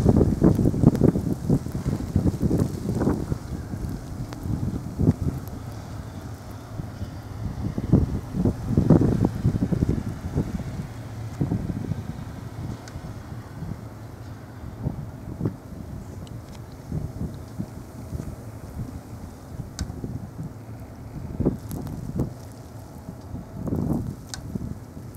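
Strong gusting wind in a March blizzard in Alpena, Michigan, roaring and buffeting close to the microphone in uneven surges throughout, with no talking.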